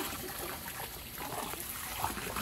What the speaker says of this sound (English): Here, put some water on Doppler's back